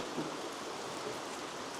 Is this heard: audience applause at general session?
no